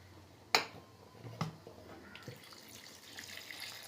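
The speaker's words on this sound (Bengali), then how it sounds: "এই মশলা ধোয়া জলটা আগে দিয়ে দেবো।" Spice-rinsing water poured into a pot of cooking mutton, opening with a sharp splash followed by a second splash and then a soft continuous trickle and sizzle, close-up and moderate in level.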